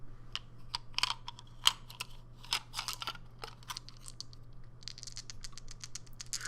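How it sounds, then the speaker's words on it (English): Several gaming dice rattling and clicking inside a small container, a quiet close-up series of light irregular clicks and taps with a soft steady hum beneath. "Hear that? It's all the dice sort of rolling around in their container."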